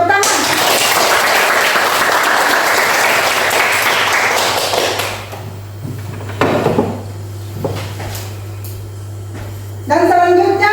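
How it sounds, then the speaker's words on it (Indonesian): Children in a classroom clap their hands together in a loud, dense burst that lasts several seconds. It gives way to quieter room sounds, a few knocks and a steady low hum. "Tepuk tangan."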